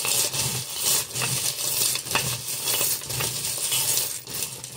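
Small metal charms are handled and dropped close by, clinking and jingling in repeated bursts over a few seconds, with no talking.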